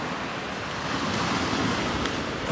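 Sea waves wash steadily against rocks and flood defences on a freezing winter beach at Mundesley, a continuous broadband surf roar with wind noise over the microphone and no speech.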